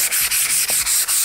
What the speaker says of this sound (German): Und jetzt gehe ich da einfach nochmal drüber mit dem Schleifpapier, um das Ganze noch ein bisschen zu entschärfen.